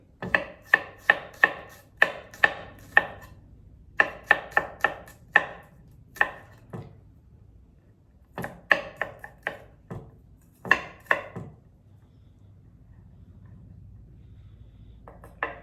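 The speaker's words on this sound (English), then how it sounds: "We also want to cut our garlic very, very small, so it's more of an accent instead of a full bite." A knife chops garlic cloves very small on a cutting board, quick close knocks coming in short runs with pauses between them, clear and without any talking.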